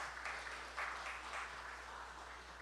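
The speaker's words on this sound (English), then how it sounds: "Can you give her a round of applause, please?" Round of applause from an audience at a community forum, soft and fairly distant clapping that holds steadily at a low level, with no talk on top.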